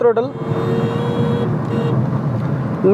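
A Skoda Kushaq Monte Carlo with a 1.5 TSI engine cruises in sixth gear, giving a steady low engine drone and road hum from inside the cabin while someone talks over it.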